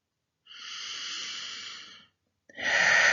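A deliberate, slow breath: one long, even inhale of about a second and a half, a brief pause, then a strong exhale, close and clear with no talking.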